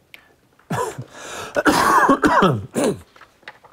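A person coughing and clearing their throat close by, a harsh burst of several coughs lasting a couple of seconds, then quiet.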